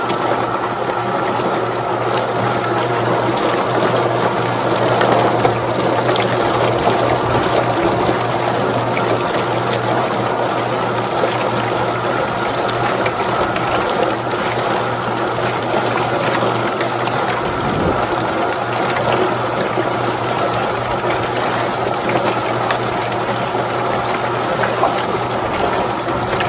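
A large poultry plucker holding four chickens spins with water running, giving a loud continuous whirring drone mixed with gushing spray that stays steady and close throughout, with no talk.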